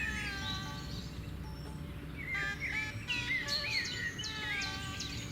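Many birds call and chirp across a wetland sanctuary at Bharatpur, with bright, overlapping whistles and tweets that rise in the second half over a steady low background hum.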